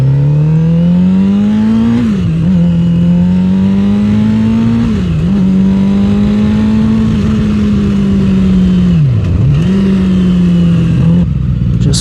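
A Suzuki GSX-R motorcycle revving and accelerating hard in cold weather, its loud close engine note climbing steadily through several gears with brief dips at each shift.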